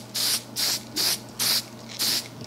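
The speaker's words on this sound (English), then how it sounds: "Mist a coat on" Lacquer sealer is misted onto a wooden mid-century coffee table in five short, evenly spaced aerosol hisses, close and loud, with no talk.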